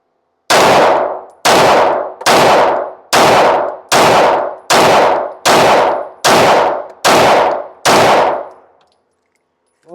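Nine sharp rifle gunshots ring out in a steady, evenly spaced sequence, each loud crack trailing off with a brief echo before the next, followed by quiet.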